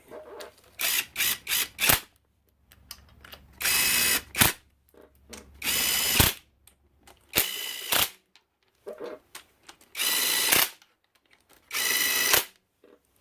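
A power driver runs in cylinder head cover bolts on a KX motorcycle engine in short bursts, about a dozen quick whirs. Sharp clicks and pauses fall between them.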